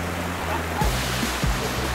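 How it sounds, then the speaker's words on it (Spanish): A river waterfall in Santa Rosa in autumn rushes steadily and loudly, a close, continuous broadband roar of falling water, with brief low thumps near the middle. "el río de la cascada"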